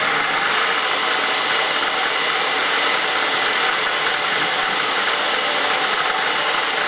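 A Bridgeport milling machine motor runs continuously at a steady, loud, broadband hum, used for making poppet valves, with no speech.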